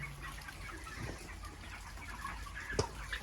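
Broiler chickens, 32 days old, cluck and murmur steadily inside a poultry shed, a fairly soft, continuous flock chatter with no talking.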